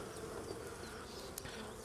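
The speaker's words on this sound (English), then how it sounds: "if you're going into a hive that's full of bees like this" Honey bees buzz steadily in an opened, crowded hive, a dense continuous close-up drone with no talking.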